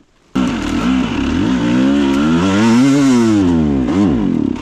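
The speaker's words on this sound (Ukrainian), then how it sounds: "Сів зараз на кові 302 Т 24 року, перша передача." A 2024 Kove 302T motorcycle engine pulls in first gear, a loud close buzzing roar that rises and falls in pitch as the throttle opens and eases, with no voices over it.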